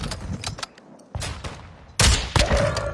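Video game gunfire bursts in rapid, repeated loud cracks, stacking into dense volleys toward the end with little pause between shots.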